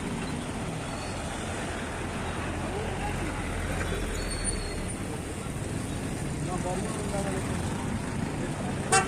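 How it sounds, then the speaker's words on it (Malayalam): Traffic and idling buses at Gudalur bus stand on a KSRTC route toward Ooty, a continuous low rumble of engines and road noise with faint background voices and no sharp events. "ഇവിടാണ് ബസ് സ്റ്റാൻഡ് കേട്ടോ. ഇവിടാണ് ബസ് സ്റ്റാൻഡ് വരുന്നത്."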